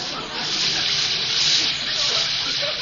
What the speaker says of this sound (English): let me reach behind the curtain here and turn on the water